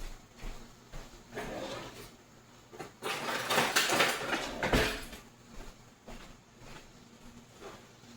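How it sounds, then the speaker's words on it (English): Garlic cloves pressed through a hand garlic mincer while preparing a watermelon salad: a few rough, crunchy clattering bursts, loudest toward the middle, with quieter handling knocks around them and no talking. "I'm just going to use my garlic mincer"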